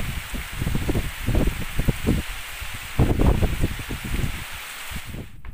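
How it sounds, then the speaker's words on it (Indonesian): Light drizzle falls outdoors under overcast skies in Tonjong village, Central Java, giving a soft, uneven patter with gusty rustling bursts, close and continuous, with no one speaking. "Cuaca mendung, gerimis hujan."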